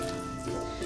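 Methi chicken simmering in a pan gives a steady, soft sizzle with faint crackling throughout, with no voices over it.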